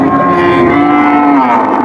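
A cow at a rural cattle market moos in one long, loud, sustained low call lasting nearly two seconds, close by and with no talk over it.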